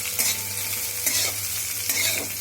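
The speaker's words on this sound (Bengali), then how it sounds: "এই দেখুন এইভাবে একটু একটু করে নাড়াতে হবে" Food frying in a pan is stirred in a few scraping strokes over a steady, close sizzle, with no voices.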